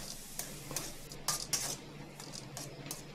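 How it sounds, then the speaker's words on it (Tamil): A spoon scrapes and clinks against a pan while salt, turmeric, chili powder and water are mixed into an egg thokku, giving several sharp metallic taps amid a quiet sizzle. "இதை போட்டு நல்லா கலக்கி விட்டுடலாம்."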